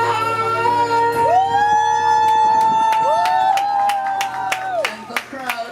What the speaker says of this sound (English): And the crowd is indeed going crazy for Judith.